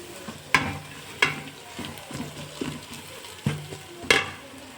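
Chicken masala, garam masala, biryani masala, turmeric and chilli powder are sautéed in a pan, with a steady sizzle under about six sharp scraping stirs, close and clear, with no talking.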